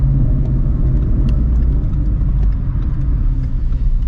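A manual-transmission car with an 8250 RPM redline runs close to the microphone, its steady, loud low engine drone rumbling throughout with no clear rise in pitch.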